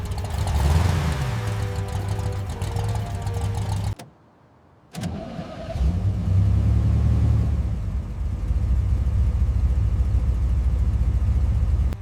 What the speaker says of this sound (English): the legendary 7-liter engine stirs